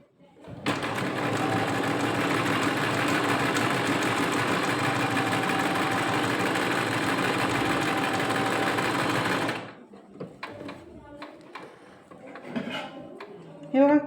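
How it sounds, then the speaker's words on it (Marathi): A Singer sewing machine stitches fabric in one steady, loud whirring run for about nine seconds, then stops, followed by quieter handling noises and brief speech. "आता मी तुम्हाला शिलाई करून दाखवते एक एक."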